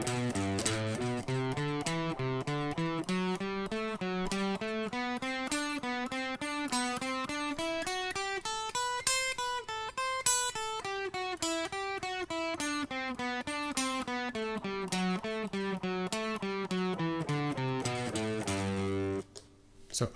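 A guitar plays a steady run of single notes climbing up a scale and back down, evenly paced and continuous, ending with a brief pause and pluck.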